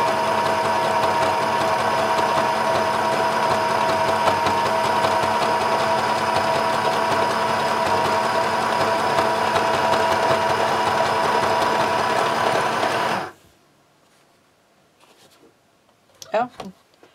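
A sewing machine stitches white thread through a tote bag in a steady, loud whir for about thirteen seconds, then stops abruptly, leaving near silence with a few faint clicks and a brief squeak.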